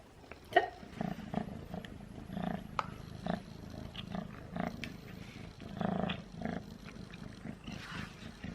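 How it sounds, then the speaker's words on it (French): Soft, rhythmic rumbling purr from a cat, close and continuous with breathy pulses, fairly quiet overall. "Il ronronne fort."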